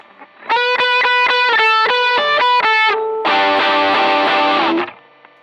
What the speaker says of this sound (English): and then I can do distortion for leads.